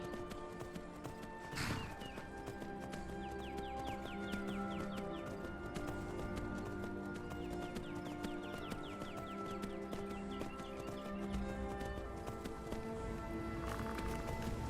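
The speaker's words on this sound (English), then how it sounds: "Another horse." Horse hooves clip-clopping in Skyrim on PS4, a steady rhythmic trot that continues throughout over a faint game soundscape, with a brief whinny near the start.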